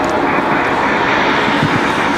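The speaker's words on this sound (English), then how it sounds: "we've got a CRJ coming back here in the alleyway" A CRJ regional jet taxis nearby at Raleigh-Durham International Airport, its engines producing a loud, steady, broadband roar that fills the whole stretch with no pauses.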